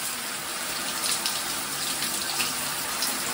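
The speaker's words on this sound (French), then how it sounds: "Oui, fais la douche, Keno." A steady stream from a shower sprays continuously while a rabbit is bathed at a shelter, a close, even hiss of running water with small splashes and no voices.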